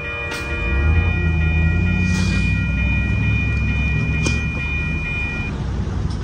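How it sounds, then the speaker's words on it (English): An Amtrak Coast Starlight passenger train rumbles steadily past at close range, its low roar sustained throughout with a few sharp high clanks and a faint tonal whine. "there go that train, ladies and gentlemen"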